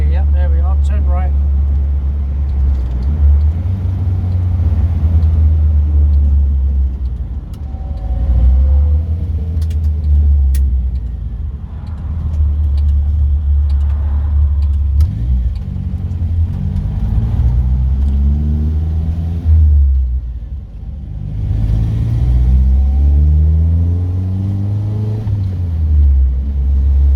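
Classic car driving on a UK road: a low steady engine rumble with rising and falling revs as it accelerates and shifts, continuous and close, with people talking over it at times.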